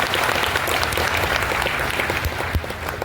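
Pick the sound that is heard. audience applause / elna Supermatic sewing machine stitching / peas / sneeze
audience applause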